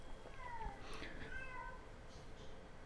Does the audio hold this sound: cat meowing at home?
yes